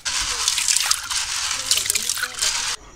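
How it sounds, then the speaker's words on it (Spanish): Beans are washed by hand in water for a home-cooked lunch, giving a steady, close splashing and trickling that runs for under three seconds before stopping abruptly. "A mí me han dejado la tarea de escoger y lavar estos frijoles"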